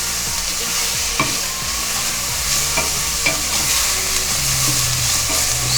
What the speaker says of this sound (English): Then I'm going to add the cardamom seeds that we've chopped up. And we're just going to give them a bit of a roast.